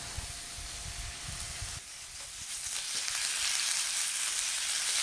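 Mushrooms sear over medium heat in a pan, giving a steady, close sizzling hiss with a few low knocks early on, the frying growing slightly louder and denser toward the end.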